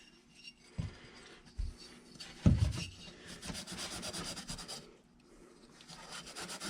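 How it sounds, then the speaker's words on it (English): 240 grit abrasive rubbed over the reed port of a 70cc Minarelli G2 engine makes a soft, close rasping scrub, with a few brief knocks early on followed by steadier back-and-forth rubbing, quiet and without speech. "This is pretty much polishing it. This stuff, 240 grit."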